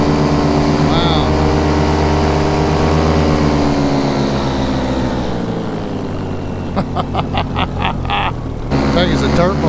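Paramotor engine droning steadily in flight over a desert canyon, loud and close with a strong low buzz throughout and brief gusty wind noise near the end.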